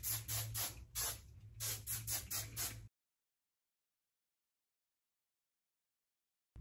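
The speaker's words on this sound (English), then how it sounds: "time to set it in place with some hairspray" Aussie Instant Freeze hairspray hisses from the can in several short, close bursts over about three seconds, followed by silence.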